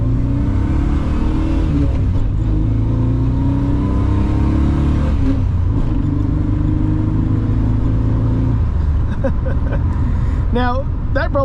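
A Holden VG Ute with a six-cylinder engine and five-speed gearbox pulls hard from a standstill, the engine note rising through the gears in loud repeated climbs, with a voice briefly audible near the end.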